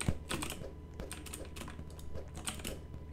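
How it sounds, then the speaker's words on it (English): Keys on a computer keyboard clatter in quick, uneven bursts of clicks and taps, close to the microphone and continuous, with no voices over them. "You literally hear my keyboard."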